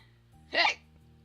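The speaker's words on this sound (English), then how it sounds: "Hiccup." A single short hiccup pops out against quiet background hum, one brief voiced burst with no other sounds around it.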